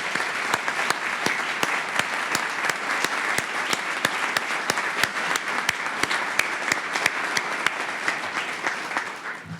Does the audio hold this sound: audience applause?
yes